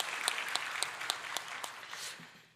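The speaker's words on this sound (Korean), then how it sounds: "지금도 우리와 함께 하신 살아계신 하나님께 영광의 박수를 올려드리겠습니다." Church congregation at a Sunday service applauds with a faint, distant patter of clapping hands that fades out toward the end.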